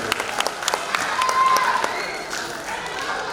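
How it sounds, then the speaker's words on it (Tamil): Audience applause at a film success celebration, a burst of clapping from a crowd with some voices mixed in, steady and moderately loud for a few seconds. "நம்ம எல்லாரும் ஒரு பலத்த கைத்தட்டலோடு நம்ம பாராட்ட சொல்லணும்"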